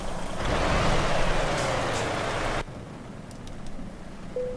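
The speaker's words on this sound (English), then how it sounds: "It's raining as well." Steady rain drums on a truck cab in Euro Truck Simulator 2, a dense hiss that suddenly drops to a quieter patter partway through, with a faint engine drone beneath.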